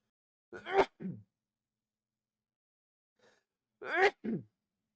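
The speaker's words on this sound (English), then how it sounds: "Sneeze came out of nowhere." Two sneezes, each a sharp intake followed by an explosive burst, separated by a few seconds of quiet, close to the microphone.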